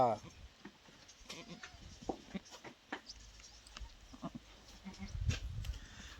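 Soft, faint goat bleats come in short cries just after a goat has given birth to a kid, over a quiet background with occasional rustling and murmured voices nearby.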